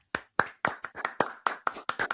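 Sharp, distinct hand claps, about a dozen in an even, moderately quick rhythm, close and clear against a quiet background with no talking.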